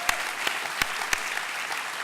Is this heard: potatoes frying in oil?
no